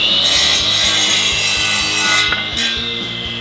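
Miter saw cutting through wood during a home door-building project, a loud continuous sawing whine with rubbing texture, close and alone, easing slightly toward the end.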